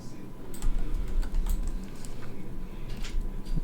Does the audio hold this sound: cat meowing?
no